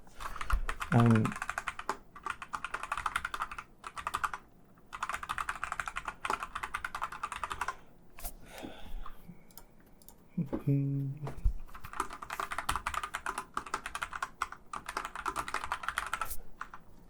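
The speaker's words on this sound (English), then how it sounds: "There's going to be a lot of keyboard noise here because I'm typing things in." Rapid keyboard typing comes in bursts of clicking keys, pausing now and then, with a brief low vocal sound between bursts.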